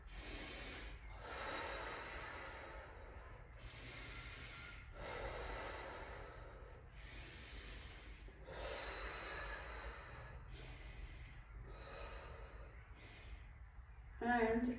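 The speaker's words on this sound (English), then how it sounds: "And then the 6 breaths through your nose." Slow breathing exercise: repeated sharp inhalations drawn in through the nose, about eight breaths, each a short hissing sniff separated by brief pauses, close and fairly quiet.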